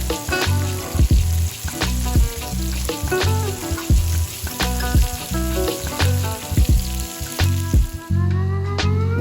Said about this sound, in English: So I'm frying up some sausage here.